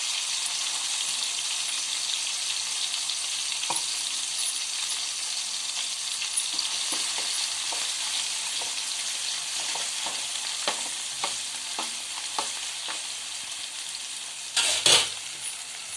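Ginger garlic paste frying in a pan for Telangana-style fish curry, a steady close sizzle with scattered stirring clicks and a brief louder clatter near the end; no talking.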